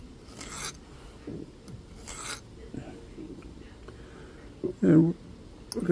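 A file rasps lightly along the jagged edges of a metal ring in a few short, quiet strokes with pauses between, ending in a brief louder rub.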